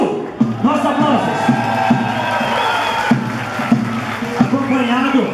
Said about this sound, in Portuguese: nossa aplauso